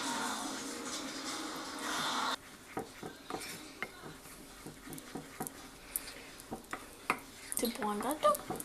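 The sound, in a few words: stirring melted chocolate and butter into egg yolks with a spatula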